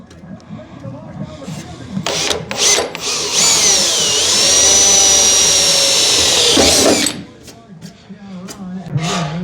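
A power drill bores a 1/8 inch pilot hole, whining loudly and steadily for about three seconds at close range, with talk before and after.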